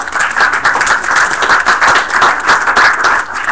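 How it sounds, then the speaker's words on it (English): Loud, dense audience applause for a symposium panel on nanoscience, neuroscience and genetics, a continuous close wash of many hands clapping at once, sustained without pause and with no talking over it. "let's have a round of applause for our panel."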